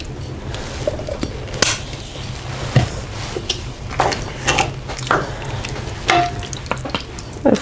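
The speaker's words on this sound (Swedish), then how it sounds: "Att steka på en vedspis är ju ganska enkelt." Food frying and being stirred in a pan on a wood-fired stove, with steady sizzling under scattered scrapes and clinks of utensils against the pan, close by and without talk.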